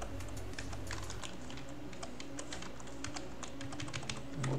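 Continuous typing on a computer keyboard, a dense, steady run of close clicks and key taps with no talk over it.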